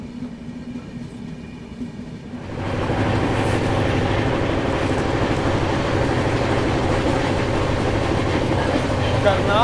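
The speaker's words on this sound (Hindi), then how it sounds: "करनाल से निकलने के बाद तो सचखंड एक्सप्रेस एक्शन में आई है" The Sachkhand Express passenger train picks up speed after Karnal, and its quiet interior suddenly swells into a loud, continuous rumble of wheels and carriage noise that holds steady to the end.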